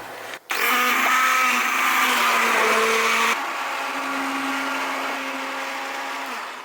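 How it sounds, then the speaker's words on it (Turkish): A blender whirs loudly and steadily while pureeing boiled vegetables, its motor pitch dropping partway through as the contents thin out, with no talking over it. "blender yardımıyla tüm sebzelerimi güzelce ezeceğim"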